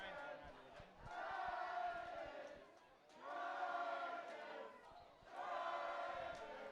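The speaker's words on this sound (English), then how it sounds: "the crowd are rooting for the Trojans to get them up" A rugby union crowd at a Far North Coast match cheers for the Trojans. The roar swells in three distinct waves and is sustained and fairly loud, with shouting mixed into the noise.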